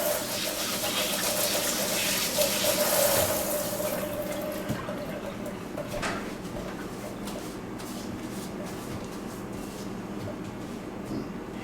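Tap water gushes into a kitchen sink during roast chicken prep, a broad steady rush for about four seconds before cutting to quieter handling and low background noise.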